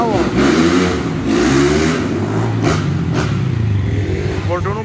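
A BMW S1000RR drag bike revs hard while held up in a wheelie. The engine roar rises and falls loud and close, and people talk over it.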